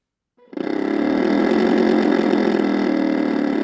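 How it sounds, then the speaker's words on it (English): Vibration motors mounted on springs inside a homemade toy airplane start up with a rising buzz, then hold a steady, loud, dense mechanical drone much like an idling engine, with no other sound. "I succeeded in making it sound like an airplane engine"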